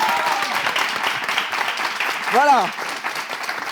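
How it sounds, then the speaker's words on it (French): A studio audience on a quiz-style show claps steadily for a correct answer, a short spoken word and a brief vocal whoop rising over the applause midway. "C'est la bonne réponse, on l'applaudit"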